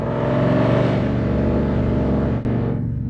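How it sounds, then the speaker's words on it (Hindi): A car engine revs hard with a loud, sustained roar as the car pulls away, the sound staying close and heavy before a brief dip near the end. "हमें सुनना होगा कि ये गाड़ी कैसी आवाज करती है"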